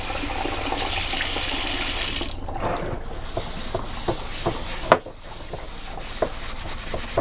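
Dishes rinsed under a running kitchen tap: a loud, steady hiss of flowing water for a couple of seconds, then quieter rubbing and scrubbing with light clinks, all close by.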